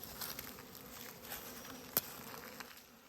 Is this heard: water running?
no